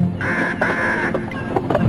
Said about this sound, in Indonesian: pasti suara burungnya Bang Jali cari korban lagi